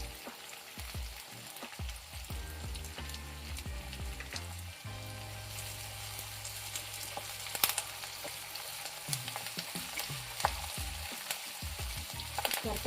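Curry leaves frying in hot oil for a bitter gourd dish, with a crackling sizzle broken by bursts of stirring and spatula scrapes against the pan, fairly faint, no talk.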